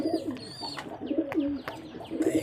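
Pigeons cooing close by in a loft at the start of the winter egg-laying season, repeated low throaty coos with soft chirps overlapping.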